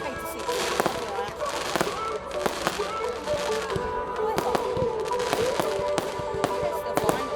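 Bonfire Night fireworks go off outdoors in a string of sharp cracks and pops at irregular intervals, fairly loud against a rumbling crowd background, while people nearby chat over the bursts.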